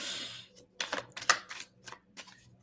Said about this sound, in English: so I'm going to pull some cards for Icy.